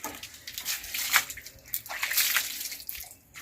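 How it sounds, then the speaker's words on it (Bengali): A German Shepherd being wetted down with water before a shampoo bath, splashing and sloshing close by in uneven bursts with brief pauses. "আগে ভিজিয়ে নিচ্ছি, তারপরে শ্যাম্পু দিয়ে চান করাবো।"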